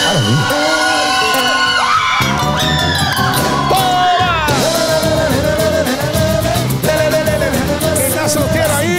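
A concert crowd shouts, whoops and cheers loudly and continuously through live music, with excited yells rising over the band.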